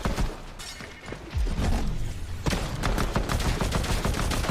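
Shotgun blasts in a first-person shooter video game, several loud, close reports in quick succession over dense game noise, with rapid clattering shots toward the end.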